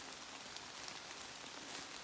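Rain falling outdoors on a walk among beech trees with golden leaves, a steady, even hiss of drops with no clear breaks, fairly soft and continuous throughout.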